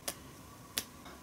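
Fingers slap against neighbouring fingers in a tapotement massage stroke, giving two sharp crisp snaps about 0.7 seconds apart, then a fainter third tap, quiet and close with no talking.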